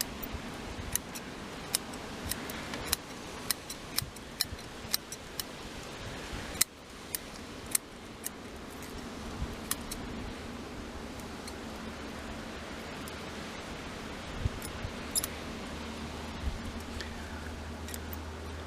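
Small pruning scissors snip bonsai foliage on a cascade bonsai, giving sharp isolated clicks at an uneven, unhurried pace over faint rustling and a low background hum; nobody speaks.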